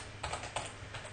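Quiet keystrokes on a computer keyboard as a web address is typed, a handful of soft clicks in an uneven rhythm over a faint low hum, close and alone with no talking.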